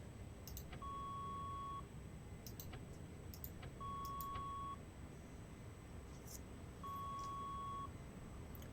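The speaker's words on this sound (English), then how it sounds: "What you hear is the radar warning receiver." A radar warning receiver in a flight simulator game sounds three evenly spaced steady tones, each about a second long, over a constant low jet engine rumble with faint clicks.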